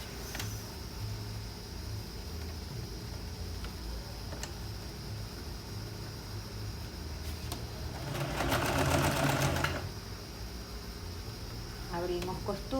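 Sewing machine stitching a shoulder seam on a shirt, a quick burst of rapid needle clatter near the end of a stretch of quiet handling, with a brief second burst after.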